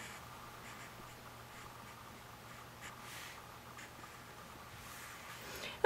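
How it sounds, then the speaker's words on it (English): A pen scratches softly on paper while a cartoon girl's rosy cheeks are sketched, a faint, quiet drawing sound with light strokes over low background hum. "let's draw some rosy cheeks"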